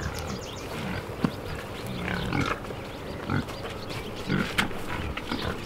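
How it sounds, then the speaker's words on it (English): Close grunts and snorts from a sow come in short bursts as she roots around for food, over a busy farmyard background. "there's the future mommy pig"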